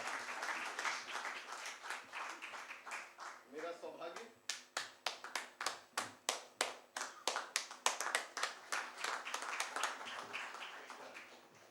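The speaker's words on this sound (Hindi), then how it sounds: "तालियां ज़्यादा बजाई थी हम लोगों ने, इनके लिए कम बजाइए, थोड़ी सी और बजाइए" An audience at a book launch claps, first as a scattered patter and then as a long run of sharp, rhythmic claps at an even pace, up close with no talking over it.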